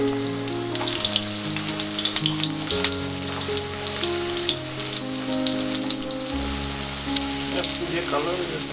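Spice-stuffed karela sizzles continuously in hot oil in a wok, a dense, even crackle with scattered sharp spits and a faint low hum beneath, loud and close throughout.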